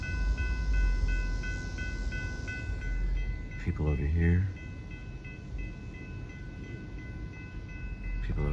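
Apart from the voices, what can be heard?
TEXRail commuter train passing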